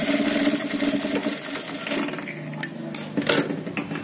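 Sewing machine stitching a sleeve, a close, rapid mechanical chatter that runs steadily, slows briefly mid-way and picks up again, alone with no talk.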